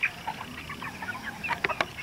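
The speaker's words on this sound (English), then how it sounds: "I always like to watch chickens, just acting like chickens, scratching around." Chickens cluck softly in short, scattered calls close by, with a few sharper clucks near the end and a faint rustle underneath.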